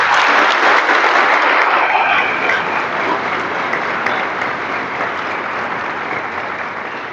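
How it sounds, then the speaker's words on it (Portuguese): A church congregation breaks into loud, sustained applause at close range. The dense clapping starts strong and slowly fades while continuing throughout. "a começar com uma bela salva de palmas."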